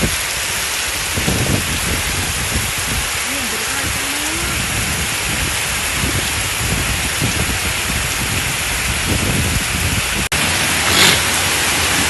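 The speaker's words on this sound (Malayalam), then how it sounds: "കണ്ടോ, ഇടിയുണ്ട് കാറ്റുണ്ട്" Heavy rain driven by strong wind, a constant close roar with faint gusty swells and a brief voice near the end.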